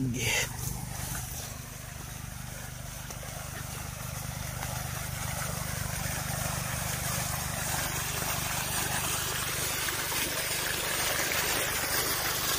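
Water pumped by a motor pump pours steadily into a flooded rice paddy during land preparation, a continuous broadband rush with the low hum of the pump engine beneath, constant and fairly close throughout.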